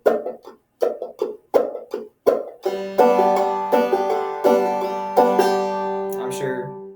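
A clawhammer banjo plays first a string of separate, crisp plucked notes in a steady rhythm, then a ringing, sustained pattern of pluck, strum and drop-thumb strokes, heard alone and close.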